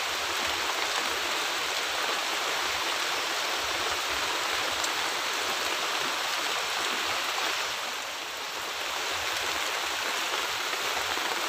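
Steady rain pours down outdoors during a fishing trip, a dense continuous hiss of drops on water and surfaces, even and enveloping throughout with no voices.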